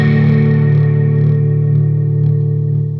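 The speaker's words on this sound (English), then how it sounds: "you can do a fast rate on your chorus pedal or chorus setting on your amp, and you sort of get the same sort of vibe" Electric guitar through a fast chorus setting, a sustained swirling, Leslie-like chord with a steady wobble, loud and alone without talk.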